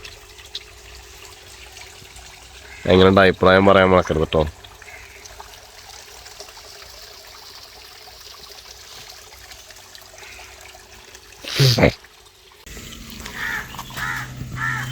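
Water pumped by a motor through a natural fish tank filter trickles steadily outdoors. Crows caw loudly nearby for a moment, and a person talks briefly near the end.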